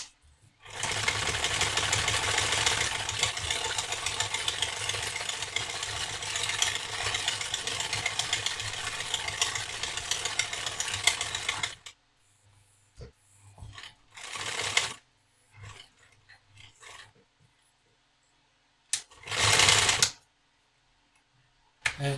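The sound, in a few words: sewing machine stitching a zigzag seam on stiff fabric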